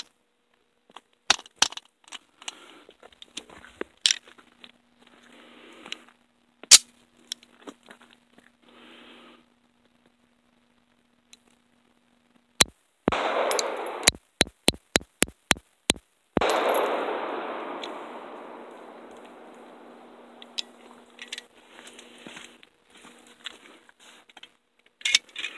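A Llama Mini Max .45 pistol is test-fired: a quick string of sharp, loud shots, each with a booming decay, after scattered handling clicks and rattles in a quiet outdoor setting.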